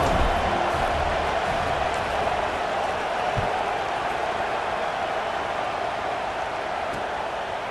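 A stadium crowd in the EA Sports College Football 26 video game gives off a steady, broad wash of murmuring noise, fairly subdued and unchanging throughout, with no distinct cheers rising out of it.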